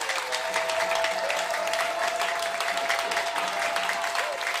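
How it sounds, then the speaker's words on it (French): A church congregation claps and cheers for Jesus in a dense, sustained burst of applause that fills the whole stretch, with a steady held musical tone ringing underneath. "Donnons une acclamation à Jésus."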